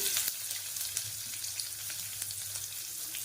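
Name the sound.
chopped onion frying in oil with mustard seeds and cumin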